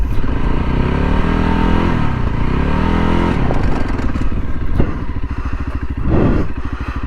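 A dirt bike engine idling and pulling at slow speed, a loud close continuous putter with throttle rising and falling and occasional scraping and clattering.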